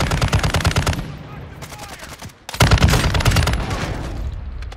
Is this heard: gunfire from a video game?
yes